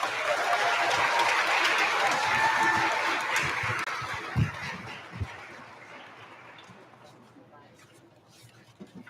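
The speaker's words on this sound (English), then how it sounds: "Please give a round of applause for her" Applause from an audience at a 2022 high school graduation rises full and steady, then gradually thins and fades out over several seconds, with a few scattered louder claps and voices near the end.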